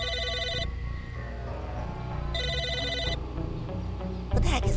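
A telephone rings in the video game Psychonauts, sounding as bright electronic bursts that repeat twice over a busy bed of game music and ambience, loud and close, with a louder sound arriving near the end.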